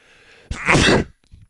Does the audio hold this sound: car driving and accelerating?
no